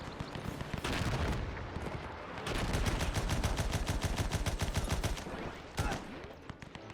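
Rapid artillery and gunfire from a World War One strategy game, German Empire forces on a trench battlefield: dense bursts of loud, rapid firing in long rolling volleys with short breaks, then a single heavy blast near the end.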